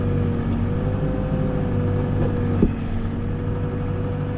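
A mini skid steer's engine runs at a steady low drone close by, with no changes in pitch apart from a single brief knock partway through.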